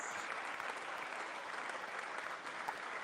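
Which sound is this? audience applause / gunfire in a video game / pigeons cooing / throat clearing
audience applause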